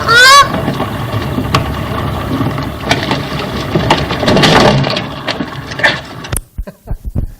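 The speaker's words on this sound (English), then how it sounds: "First, the goose." Honking goose calls open the clip, a few harsh nasal honks, followed by a busy mix of flapping, rustling and other animal noise, moderately loud and close, ending in short scattered clicks.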